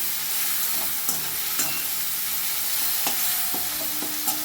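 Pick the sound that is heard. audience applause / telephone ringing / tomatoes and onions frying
tomatoes and onions frying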